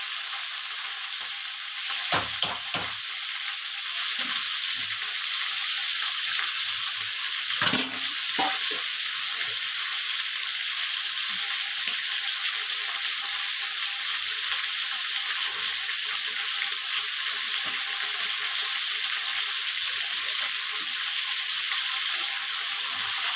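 Cauliflower and potato pieces fry in a pan with a steady, loud sizzle lasting throughout, broken by a few scraping stirs near the start.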